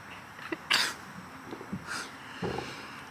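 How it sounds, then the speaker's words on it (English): A person sneezes outdoors at a private rural retreat, with a sharp burst early and a second softer sneeze about a second later, surrounded by snorting breaths and small sniffs at close range. "Go ahead, sneeze."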